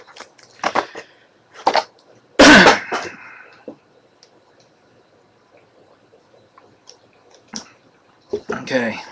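Several short coughs and throat clearings come up close, spaced irregularly across the stretch with quiet gaps between them, one burst much louder than the rest.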